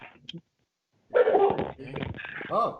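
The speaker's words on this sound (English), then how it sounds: "Sorry if you hear my dogs in the background." Dogs barking in the background of a home interview, a short bark burst near the start, then a person talking over a few softer barks or whimpers.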